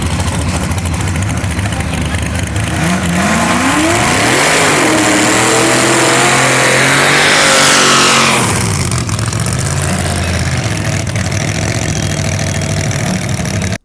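Supercharged Vortec-style drag race car with a Powerglide transmission and 9-inch rear end, loud engine rising sharply in a hard acceleration run at an eighth-mile drag strip, then receding, under continuous crowd and engine noise.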